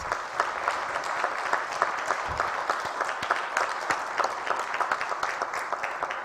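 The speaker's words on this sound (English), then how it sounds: "Can we have a big round of applause for all our awardees?" Sustained audience applause for youth awardees at a climate justice plenary, steady dense clapping with sharp individual claps standing out throughout.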